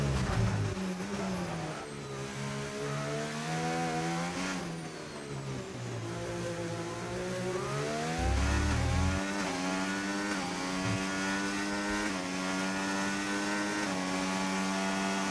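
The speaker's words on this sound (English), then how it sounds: "We got to go with Bas Matirisi starting his flying lap for the Alpine team." An F2 race car engine in a sim racing game screams through a flying lap at the British Grand Prix, a continuous loud high-revving note that climbs and drops with gear changes, heard alone with no talk.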